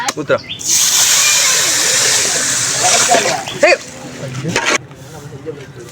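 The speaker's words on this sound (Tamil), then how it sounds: "ஏத்த மாதிரி தண்ணியை ஊத்திக்கலாம்." Water pours into a pan of sugar for chocolate bread halwa, a steady close hissing splash lasting several seconds before cutting off, with a voice talking over it.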